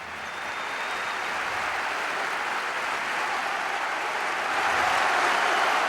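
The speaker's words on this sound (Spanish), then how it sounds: "Gran ovación para Pavel." A basketball arena crowd gives a sustained ovation, dense applause and cheering building steadily and swelling louder toward the end, with no talk over it.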